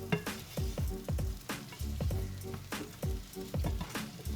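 Onions cooking in a pan for Sabrett onion sauce, a soft sizzle broken by repeated scraping strokes of a utensil against the pan in a steady rhythm, close and fairly quiet.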